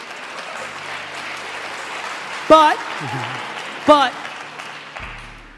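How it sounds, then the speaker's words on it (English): Audience applause from parents fills the background in a steady wash beneath someone talking, with brief louder bursts of clapping and voices cutting through. "There's the parents clapping."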